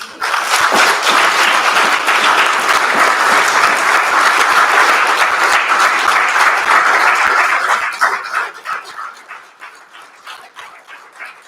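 An audience applauds at the close of a university inaugural lecture, loud sustained clapping from a large crowd that holds steady, then thins and fades out over the last few seconds.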